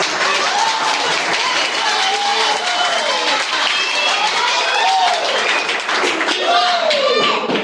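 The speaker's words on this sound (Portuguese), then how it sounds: "E uma salva de palmas." Applause at an award ceremony and lecture, continuous and loud, with tonal voices or music sounding over the clapping the whole time.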